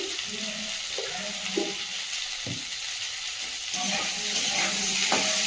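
Spices with turmeric and salt sizzle and fry in a pan, a steady hiss with occasional stirring scrapes and knocks, growing slightly louder near the end.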